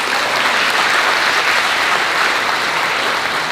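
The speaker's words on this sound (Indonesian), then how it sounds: "Aplaus untuk kita semua." A large audience at a university gathering claps in dense, sustained applause, loud and even throughout, with no voices rising above it.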